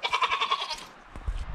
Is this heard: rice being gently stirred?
no